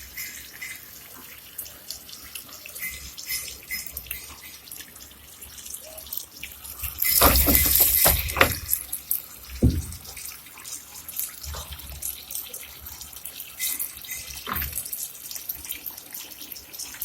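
Water runs into a Singer automatic washing machine after start, a steady trickling and splashing flow with a louder burst of gushing midway, close by with no talk.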